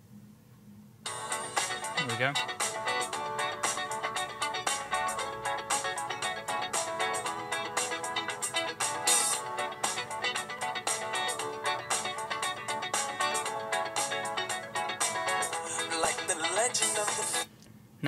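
Custom MP3 music track playing as a text notification tone on a Samsung Galaxy S4, sounding loud and continuous for most of the clip after a short quiet start, with a brief spoken remark near the beginning.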